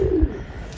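Pigeon giving a short, soft coo close by, a single low throaty note in a quiet room.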